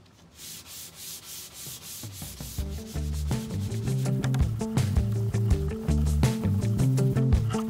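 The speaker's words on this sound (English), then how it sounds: "I am sanding the floor in our main cabin." Rhythmic rasping strokes of sandpaper rubbing a wooden cabin floor aboard a sailing catamaran, close up, growing heavier and steadier with some low thumps.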